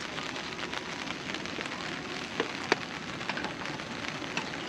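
Light drizzle falls on a hilltop campsite near Batu, Malang, a steady soft patter with occasional louder drops striking close by.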